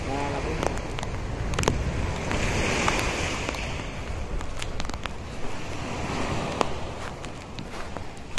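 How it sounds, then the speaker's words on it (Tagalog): Strong surf breaking on a beach at Sibay Island, a steady broadband roar of waves with wind buffeting the microphone and occasional footsteps, people talking now and then over it. "Sobrang lakas talaga ng alon dito na agos na."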